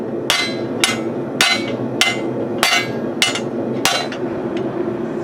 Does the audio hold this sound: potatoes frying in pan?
no